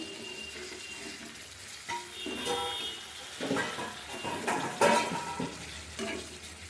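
Tomato is stirred into a fried spice paste in a pan, giving a soft, wet sizzle with intermittent scraping and stirring that swells in the second half.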